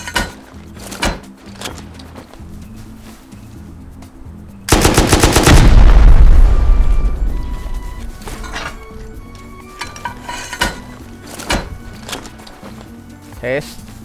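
A loud burst of gunfire erupts in the survival game Rust partway through, a dense rapid volley that booms and decays over a couple of seconds, framed by quieter clicks and scattered sharp taps before and after.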